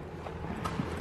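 A horse's hooves clip-clop a few times in quick succession nearby, soft and brief over quiet background noise.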